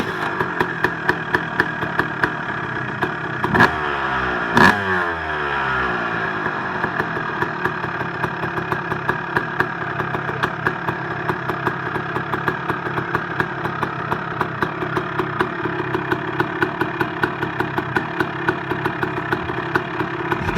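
A 2001 Honda CR250 two-stroke motorcycle runs steadily after a cold start with choke on, a loud buzzing, slightly rattly idle with a couple of quick blips early, continuous and close.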